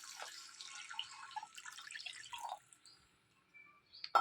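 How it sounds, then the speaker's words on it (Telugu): Water poured into a hot pan of roasted vermicelli for semiya upma, giving a short patter of splashes and drips for about two and a half seconds before the pan falls quiet. "ఇలా ఏగిపోయిన తర్వాత ఇందులో కొద్దిగా వాటర్ పోసుకోవాలి"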